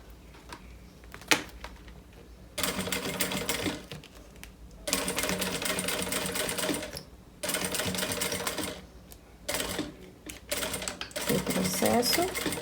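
Sewing machine stitching a backpack's flap and straps together, running in several loud bursts of rapid mechanical stitching separated by short pauses, with soft talk between runs.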